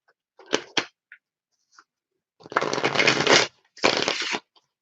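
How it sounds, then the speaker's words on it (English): Tarot cards being shuffled by hand, a few quick soft flicks and taps, then two longer riffling bursts close up, with quiet gaps between. "One more good shuffle."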